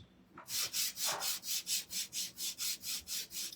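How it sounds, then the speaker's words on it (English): Hand sanding a wooden stand from a spring sheep craft kit, heard as a steady run of about a dozen even back-and-forth rubbing strokes, close and fairly quiet. "everything is sanded except for the stand."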